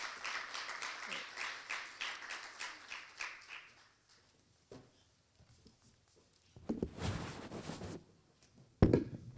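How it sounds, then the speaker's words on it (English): Audience applause greeting ubaba uZungu as he comes forward at a signing ceremony with youth contractors: a moderate round of clapping fades out, then a shorter burst of clapping returns and ends with a sharp thump. "Can we give ubaba uZungu a round of applause as he's still coming forward to welcome us?"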